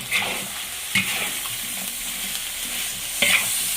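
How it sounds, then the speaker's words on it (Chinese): Pickled chilies hit a hot wok over duck seasoned with dark and light soy sauce, giving a loud continuous sizzle broken by several sharp spatula scrapes and clanks, with no talking. "这个泡椒下锅。"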